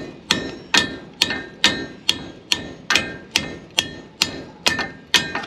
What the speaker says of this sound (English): So we're gonna beat it in with this here pipe wrench.